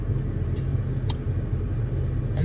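Inside a car, a steady low road and engine rumble drones continuously, with a couple of faint brief clicks and no voices.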